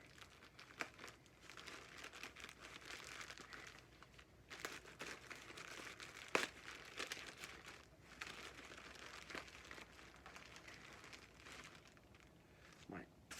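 Plastic packaging rustles and crinkles steadily as a sealed parcel of model airplanes is cut and pulled open with scissors, with sharp snips and crackles at close range and talk throughout.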